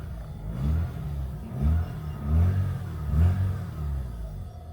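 A Mazda RX-8 engine, freshly fitted with old LS2 ignition coils, runs close by with a deep, smooth rotary drone, rising in four or five short revs before settling back each time.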